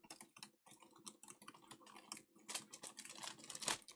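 Foil is peeled off a hot-foiled stamped card in a series of close, crisp crackles and rustling tears. The sound starts sparse and grows denser and louder toward the end, and no voices are heard.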